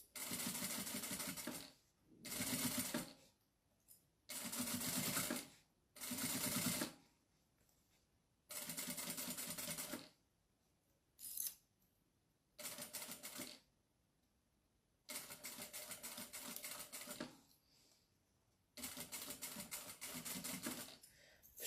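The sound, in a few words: sewing machine stitching a bag seam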